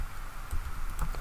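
Quick, light keystrokes on a computer keyboard while entering an Excel formula, a close and steady patter of taps with no voices.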